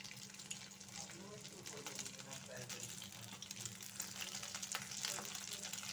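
Soya chaap fries in a pan with a soft, continuous sizzle and crackle, faint and steady, with a low background hum beneath it.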